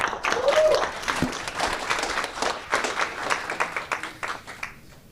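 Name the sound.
meetup audience applause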